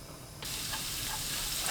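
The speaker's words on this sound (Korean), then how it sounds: "팬에 식용유 4큰술, 다진 마늘 1큰술 넣고 센 불로 볶습니다." A sudden hiss erupts as minced garlic hits hot cooking oil in a pan over high heat, becoming a steady, close sizzle that continues without a break.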